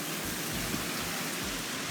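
Steady rain hisses as a dense wash of noise in the dark streets, fairly faint and even throughout, with no voices.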